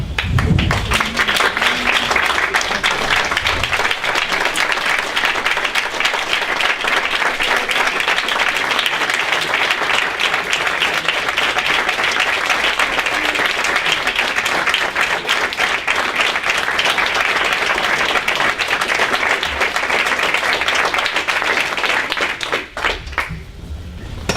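A standing crowd at a commemorative anniversary gathering applauds in tribute, a loud, steady, sustained ovation that runs unbroken for over twenty seconds before fading out.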